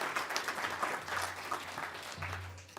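Audience applause fills a youth forum hall, steady clapping from many hands for the whole stretch with no voices over it.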